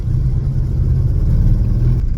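An old Volkswagen engine idling along at very low revs while off-roading, a deep, steady rumbling chug close by, loud and unbroken with no talk.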